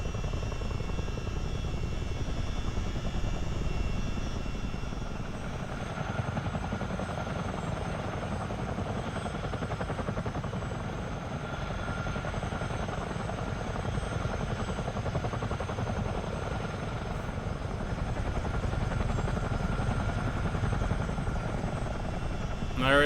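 CH-47 Chinook helicopter flying and climbing near RAF Valley, its twin rotors and engines a steady, heavy, close drone that fills the whole span without pause.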